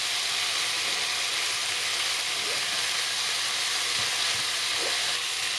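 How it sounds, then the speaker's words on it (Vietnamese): Meat, carrot and shrimp stir-fried in a pan, with a steady, dense sizzle throughout and faint scraping knocks from stirring. "Rồi tiếp tục xào cho đến khi thịt và cà rốt tôm chín."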